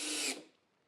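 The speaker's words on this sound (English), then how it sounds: "And I will knock over my drill and anchor this corner." A power drill drives an anchor into the corner of a sign in a short loud whirring burst that cuts off abruptly, leaving near silence, with no talking.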